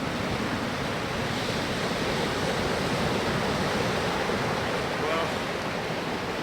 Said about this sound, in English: the waves are very unpredictable here, and I almost lost the mic that last take